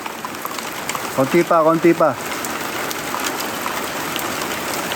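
Rain patters on mustard green plants in a tropical garden, a steady hiss broken by a short spoken phrase in the middle.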